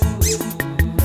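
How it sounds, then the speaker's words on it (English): Squeaky dog toy in a bullmastiff puppy nursery, squeezed in a quick run of about six sharp, loud squeaks at an even rhythm, close up. "love my squeaky toy"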